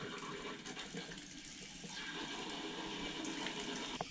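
Water draining out of a home water heater tank, a steady, even rushing flow with no break, fairly faint and heard alone.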